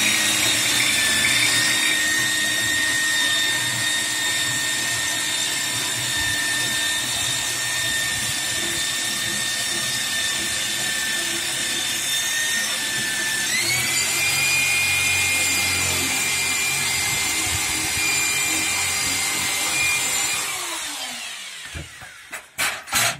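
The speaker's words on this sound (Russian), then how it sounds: "Расскажу, как легко и просто штробить стены из газоблока." An electric drill with a standard bit chases a groove for wiring along a guide batten in an aerated concrete block wall, a loud continuous whining grind that shifts pitch partway through before winding down at the end.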